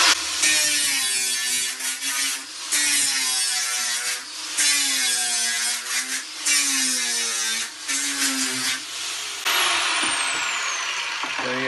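A power grinder cuts off long screws on a narrowboat hatch, a loud whining grind repeated in several bursts with rising and falling pitch, then a steadier scraping hiss near the end.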